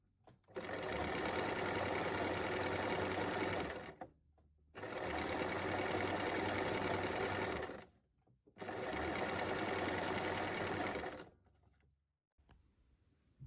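A sewing machine runs in three long, steady bursts of stitching, zigzag-sewing coiled cord onto a mat, with short pauses between runs and a faint tail at the end.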